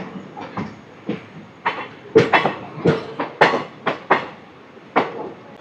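Passenger coaches of the 17219 Machilipatnam–Visakhapatnam Express rolling on Indian rails, a steady run of loud clickety-clack wheel beats over rail joints, close by and without voices.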